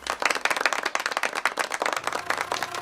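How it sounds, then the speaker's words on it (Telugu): A group of people claps for Seenu, a brisk, dense burst of hand claps lasting a few seconds. It is close and fairly loud, with no voices over it. "సీనుకి చప్పట్లు కొట్టండి రా."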